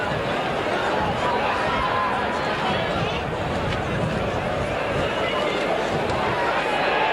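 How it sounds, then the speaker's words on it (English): Widnes rugby league crowd in the far-side main stand roaring at a great touchline kick during Widnes v Bradford, a steady, loud, distant roar of massed voices with a commentator talking over it. "The Widnes crowd on the far side in the main stand there, in line with that kick, let you know right away"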